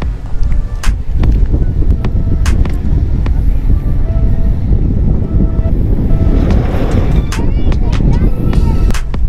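Heavy wind buffets the microphone in loud, rumbling gusts throughout, with some clattering and faint sounds underneath, outdoors during a vehicle safari ride.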